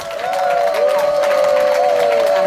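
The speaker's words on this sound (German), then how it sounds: "Ihr Applaus für Birgit Langer." A crowd at a Schlager show cheers and claps in a brief, loud burst, with voices and whoops riding over the clapping.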